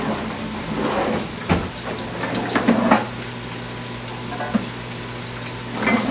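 Pork sausage links browning in a frying pan, a steady close sizzle and crackle of fat with occasional louder pops and spits, no talking.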